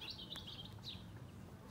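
Faint high chirps and tweets from aviary birds come in short bursts over a low background rumble, a few quick calls spread across a brief moment.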